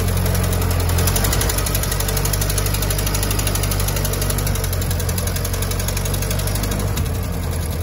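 A 1925 Ford station wagon engine running steadily as the car creeps forward, giving a loud, continuous, rough mechanical chug with a rattling knock throughout and no pauses.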